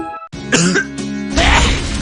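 A harsh, loud cough bursts out close up in a cold-and-flu medicine advert, followed by a second rough, throaty cough, two quick explosive fits with no talking.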